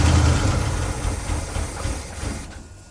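A 1977 Pontiac Bonneville engine cranks and tries to fire up, a loud, low, rough mechanical churn that holds steady and fades slightly near the end, with no voices.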